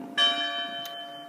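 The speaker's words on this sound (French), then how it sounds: "Franchement, cette cloche me saoule." A bell strikes once, bright and close, its tone ringing on and slowly fading, with a faint second tap near the end.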